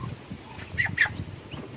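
Two short nasal honks from ducks, close by, over a low rumbling background with faint scattered bird calls, in a backyard also holding Rhode Island Red and native chickens.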